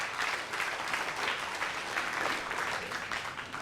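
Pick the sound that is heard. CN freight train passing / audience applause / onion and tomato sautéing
audience applause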